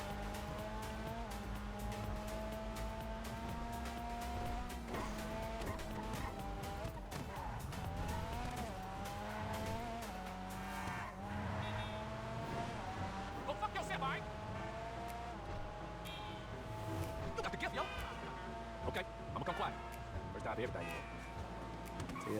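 GTA V Online car driving through the city toward a police station, a continuous engine drone with shifting pitch, tire squeals and game effects, under steady talk throughout.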